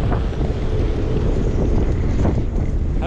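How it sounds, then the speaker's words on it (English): Strong storm wind sweeps through a small Dutch fishing village on the coast, a dense, continuous roaring rush with heavy gusts buffeting the microphone, loud and unbroken throughout. "Oh my god, a noisy wind."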